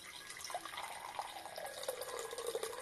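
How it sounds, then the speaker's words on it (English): Fizzy drink opened the day before pours into a glass, a faint bright trickle of liquid with light crackling fizz running steadily for a few seconds. "Listen to that. That's such a nice sound. See how it pours after I've opened it yesterday."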